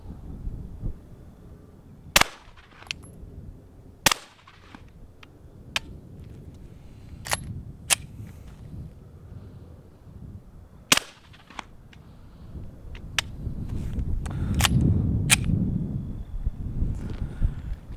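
Suppressed rounds from a firearm fitted with an AAC Illusion suppressor at a shooting range, a series of about eight sharp, spaced reports, each followed by a short mechanical clack, over low outdoor rumble, with no talking.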